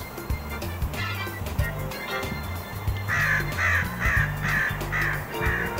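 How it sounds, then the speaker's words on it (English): A crow among tall trees caws in a steady run of loud, evenly spaced calls, close by, over a constant low rumble of background noise. "Now there's that little pest, the crow"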